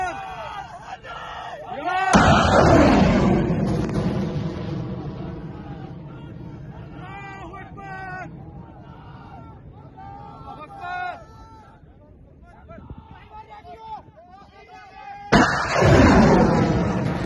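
Pakistani Fatah-1 missile launch: a heavy roaring blast opens and rumbles on under excited shouting and crowd voices, then a second loud booming burst erupts near the end.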